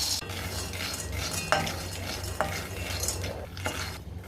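Wheat grains and peanuts dry-roasting in a pan over medium heat, with continuous dry stirring and rustling and occasional sharper scrapes and clinks of the spoon against the pan.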